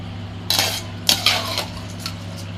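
Ordinary household rice is tipped into a pot of boiling water for chicken biryani, giving a few short rattling, clinking bursts over a steady low hum from the stove.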